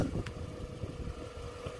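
A 2006 Toyota Estima engine idles after a remote start, a low steady rumble heard from a distance, with a faint brief tick near the start and no talking.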